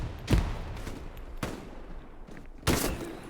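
Grenade thrown in a competitive online shooter match on the Remagen map, heard as three sharp, booming blasts spaced about a second apart, the last the heaviest, over a low hum of background battle noise.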